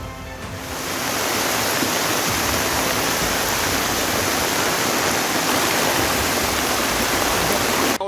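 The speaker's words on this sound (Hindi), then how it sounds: "भारी बारिश की वजह से उफनती हुई पूर्णा नदी के पानी ने पूरे शहर को नदी बना दिया।" Floodwater from the swollen Purna river rushes through city streets after heavy rain, a loud, steady roar of turbulent water that swells in over the first second and then holds constant.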